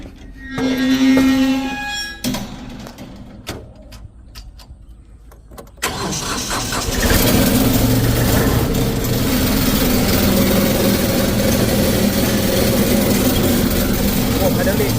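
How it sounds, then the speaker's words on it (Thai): A used 2018 Kubota B2440S tractor, fitted with an 85 cm mower, is cranked with a few clicks and rough turns, then catches and settles into a steady, loud, close diesel idle that runs on without voices. "อ่ะ มาฟังเสียงเครื่องยนต์กันสักนิดนึง"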